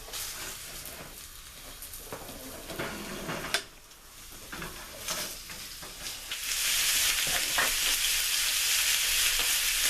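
Ground beef, about two pounds, sizzles and fries in a pan with no added oil while a utensil scrapes and breaks it up, with steady hissing that grows louder and denser in the second half.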